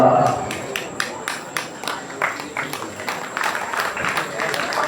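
An audience at a devotees' felicitation ceremony for a religious mutt's worship claps together in a steady, dense round of applause that swells and holds at moderate loudness throughout.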